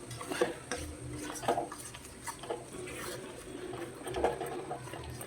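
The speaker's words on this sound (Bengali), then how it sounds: "হালকা করে নেড়ে দেবো, কারণ কাজু দিয়ে আছে, নিচে লেগে যেতে পারে।" A spoon stirs cashew-poppy seed paste and mustard paste in a pan for a vegetarian eggplant dish, with soft scraping and clinks against the metal repeating in an uneven rhythm, close and fairly quiet.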